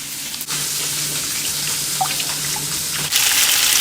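Tap water runs steadily into a sink while home-grown beetroot is rinsed, a continuous close splashing hiss with small bumps of handling.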